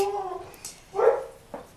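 A dog gives a drawn-out whimpering whine, then one muffled bark and a softer follow-up yelp, moderately faint and somewhat distant indoors.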